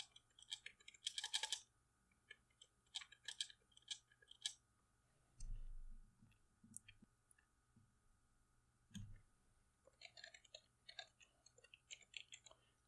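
Quiet typing on a computer keyboard, scattered clusters of light key clicks with pauses between bursts and a couple of soft thumps, close and faint.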